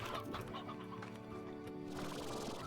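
Chickens cluck in the video game Slime Rancher, several soft, irregular clucks over a steady musical game background, with no talk.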